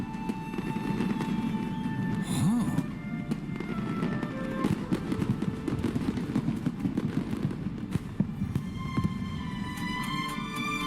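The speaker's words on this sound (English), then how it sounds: "A fireworks show?" Fireworks show in the video game Genshin Impact, with a steady crackling, popping bed of bursts and occasional sharper bangs continuing throughout over a low hum, moderately loud with no talk.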